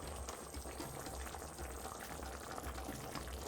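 A beef and potato stew simmers in a pot, with soft, steady bubbling and faint popping held at a low level throughout, no voices.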